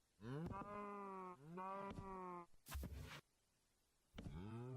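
Cows in Minecraft mooing in a series of long, drawn-out bellowing calls, three or four loud moos close by with short gaps between them.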